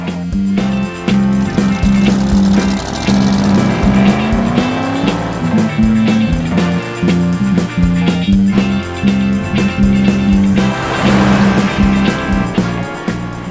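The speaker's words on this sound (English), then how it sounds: "let's go see if we can't burn some rubber." A Pontiac with tri-power carburetion does a burnout, its engine roaring and revving loudly while tires squeal and skid continuously over several seconds, close and sustained.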